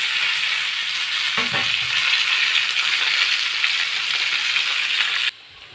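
Pumpkin pieces are added to hot oil with fried dried red chillies, giving a loud, steady sizzle with a brief clatter and stir before the frying noise cuts off abruptly.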